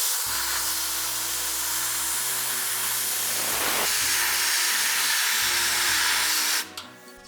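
A water spray washes greasy engine oil pan parts, a steady, loud hiss running for several seconds with a low mechanical hum beneath, then cutting off abruptly near the end.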